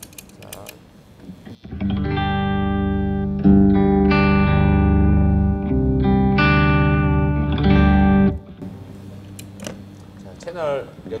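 A sustained organ-like tone swells and holds under heavy guitar pedal effects processing, with rich layered harmonics shifting between chords, fairly loud, then cuts off near the end.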